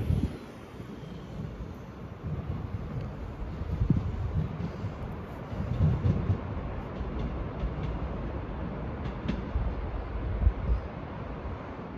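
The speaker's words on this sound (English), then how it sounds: "I can confirm the service to Saltburn is departing out about 3 minutes late." A Northern service train departs Middlesbrough station for Saltburn, a faint, low rumble of rolling stock that swells and fades under steady wind noise on the platform.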